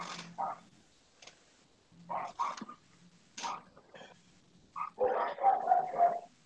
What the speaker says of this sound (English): Oh my god, these dogs.